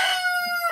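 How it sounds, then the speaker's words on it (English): A rooster crows loudly and close by, one strained, drawn-out call that fades at the end. "that's the rooster, just being a loud rooster"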